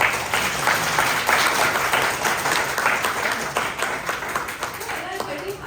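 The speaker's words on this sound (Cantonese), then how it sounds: "可以俾啲掌聲佢啊！" An audience at a public lecture on Tai Po's rural history in Hong Kong breaks into sustained applause for a guest speaker, the clapping full and even before thinning out at the close.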